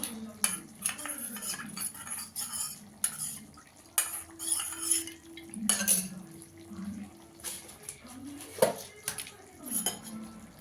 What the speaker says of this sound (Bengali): আমি এখানে 1/2 চামচ কর্নফ্লাওয়ার নিয়েছি, জলে গুলে দিয়ে দেবো।